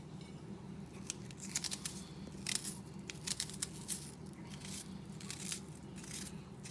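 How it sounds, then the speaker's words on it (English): Half an onion is cut with a knife in a home kitchen. Soft, irregular crunching chops sound faint and close over a low background hum, with no talking. "Just constantly cutting the onions."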